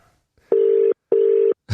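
A telephone line gives two steady, loud electronic tones of about half a second each, separated by a short silence, as a phone call is being placed.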